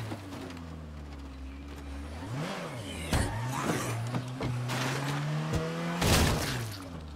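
A car in the survival video game State of Decay 2 drives with a steady engine drone whose pitch dips and climbs as it revs and accelerates, broken by sharp impact crashes and skids, loud and close, with no talking.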